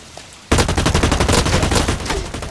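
Automatic gunfire from the video game Blacklight Retribution bursts in suddenly after a brief quiet, a loud, rapid string of shots that continues steadily to the end.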